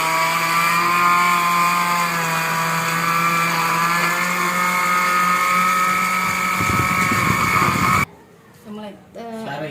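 A kitchen blender whirs loudly and steadily for about eight seconds, grinding ingredients with a constant high motor whine, then cuts off as people speak briefly afterward.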